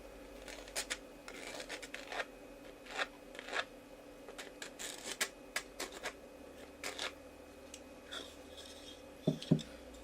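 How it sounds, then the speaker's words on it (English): A mechanical pencil scratches softly along the inside of a wooden bandsaw-box drawer, making faint, quiet strokes of uneven length with short pauses between them. "Take my pencil, nice mechanical pencil, and trace the inside of the drawer"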